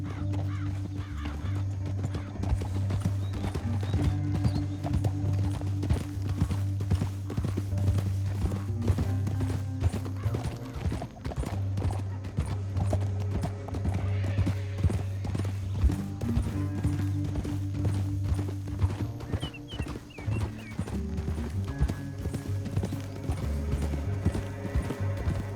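Horses galloping in the video game Red Dead Redemption 2, rapid continuous hoofbeats over a low droning background, the pounding rhythm steady and close throughout.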